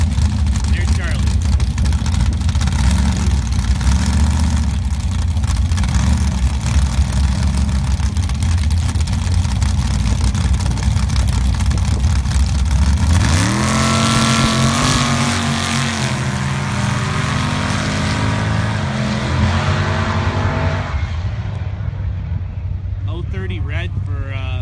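Charlie Johnson's Mopar Jeep drag racing at a dirt drag event, a loud engine roar that builds into a sweeping, revving run and then fades away, while an announcer keeps talking over it.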